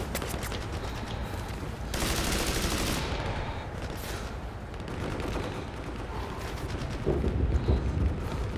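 Bursts of gunfire from the Hell Let Loose Vietnam game, dense rattling volleys and sharp shots of varying loudness, some close and some farther off, running almost continuously.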